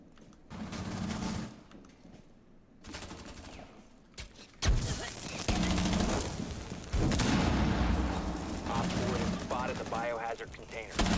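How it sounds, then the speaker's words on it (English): Bursts of gunfire in GTA 5 roleplay, sustained volleys of rapid shots and blasts that swell loudly and continue for several seconds, with a voice talking over parts of it. "Who is shooting that?"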